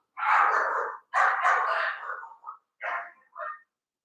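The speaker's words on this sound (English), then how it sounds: "that's my neighbor. They have 2 dogs, and one of them, he's so sensitive." A neighbor's dog barks in a short indoor burst of four or five sharp woofs, the first two long and loud, the later ones shorter and trailing off, with no talk.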